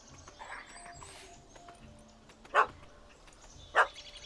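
A dog in The Witcher 3 video game gives two short, sharp barks about a second apart over a quiet background of faint game ambience and soft chirps.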